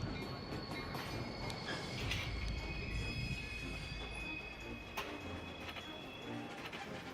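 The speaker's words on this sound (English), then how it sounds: "Seeing these mile-long, slow-moving freight trains heading out of Chicago to the long-distance rail network" A mile-long, slow-moving freight train rolls through a Chicago rail yard, a steady close rumble of rail cars with thin metallic wheel squeals ringing above it and a few sharp clanks, continuous throughout with no talk.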